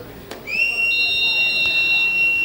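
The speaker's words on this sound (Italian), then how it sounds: "fischia il direttore di gara, parte con la rincorsa, tiro e gol" A referee blows a long whistle before a penalty kick at a regional Promozione football match, a steady piercing tone with overlapping pitches lasting about two seconds over low crowd and ambient noise.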